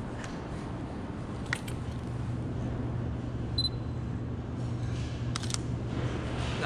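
A camera shutter fires in a few quick mechanical clicks during night street photography, set against a constant low hum of traffic and city background.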